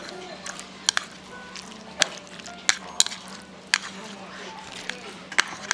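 Egg, onion and paste stirred while frying on a Korean barbecue grill, sharp intermittent clicks and scrapes of utensils over a low sizzle, with a person talking throughout.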